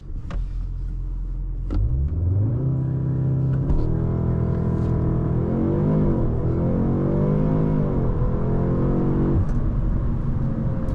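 A 2024 Audi S3 launches hard from 0 to 100 km/h, its engine rising through the gears in a loud, close, rising drone with clear revving sweeps at each shift, and no talk over it.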